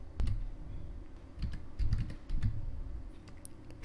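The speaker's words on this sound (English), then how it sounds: "And now here you need to type shutdown" Keys clatter on a Windows computer keyboard in short bursts of quick, close typing with brief pauses between.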